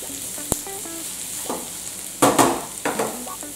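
Onions frying in a pan for chicken curry, stirred with a utensil: a steady sizzle under a few scraping strokes and soft clatter, close by, with no talking.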